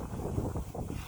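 Steady breeze of about 11 knots sweeps across a 1986 Tashiba 36 sailboat on a close reach at sea, a continuous low buffeting rumble of wind on the microphone with no talking.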